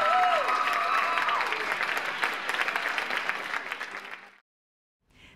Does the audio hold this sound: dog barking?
no